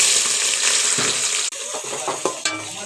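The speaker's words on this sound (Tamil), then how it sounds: "வெங்காயம் நல்லா வதங்கட்டும்." Onions sautéing for mint biryani in a pan, with cardamom, cloves and cinnamon in the oil: a loud, close, continuous sizzle with a few metallic stirring scrapes and clinks, no talking.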